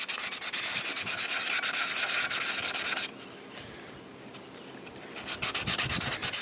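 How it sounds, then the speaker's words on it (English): Steady rhythmic scraping of sandpaper rubbing back and forth on the edges of a candlestick being shaped into a popper fishing lure, close up, pausing briefly midway before resuming with quick strokes. "And it's going to start sanding it down smooth on these edges here."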